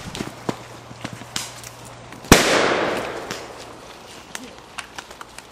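An airsoft grenade goes off outdoors in a woodland game, a single sharp loud bang with a lingering hissing decay, amid scattered footsteps and rustling and some distant voices.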